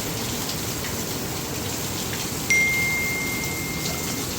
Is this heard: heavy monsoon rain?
yes